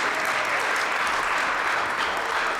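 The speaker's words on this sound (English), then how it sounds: "give her a round of applause" Steady, dense clapping from a large indoor audience at a Martin Luther King Jr. community event, holding an even loudness throughout the short span without any voices standing out.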